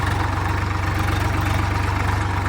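A Swaraj 744 XT tractor, about 50 horsepower, running in a field with a rotavator, a loud steady low diesel throb with a fast even pulse, close and continuous.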